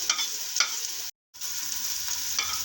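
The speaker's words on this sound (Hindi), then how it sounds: "इसको ब्राउन नहीं करना, बस हल्का सा हम इसको भूनेंगे" Ingredients lightly fry in a pan with a soft, continuous sizzle, broken by a few scraping stirs and a short pause, with no talk.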